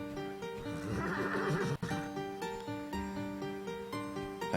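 A horse neighs in the online role-playing game Shroud of the Avatar, one clear whinny over a looping game music bed, moderately loud and without talk.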